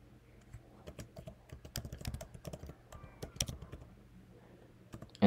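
Close, fairly quiet typing of a password on a Mac computer keyboard running macOS Ventura: a brisk, uneven run of light key clicks that thins out near the end, with no voices.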